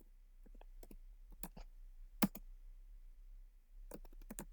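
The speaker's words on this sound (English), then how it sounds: "Press enter on your keyboard again and type in enable" Keys tapped on a computer keyboard while entering router configuration commands, scattered soft clicks in irregular bursts with one sharper louder keystroke like an enter press, close and quiet with no talk.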